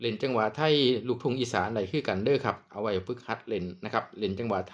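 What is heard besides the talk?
No distinct noise like a dog, phone or traffic.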